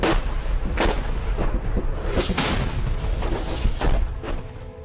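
Repeated heavy booming explosions in Ukraine roll over a dense rumbling background, several loud bursts spread across a few seconds with no talking.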